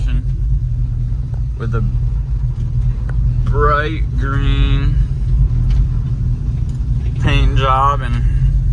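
A bright lime 1972 Ford Mustang Mach 1 in great condition idles with a steady low rumble throughout, someone talking over it in bursts.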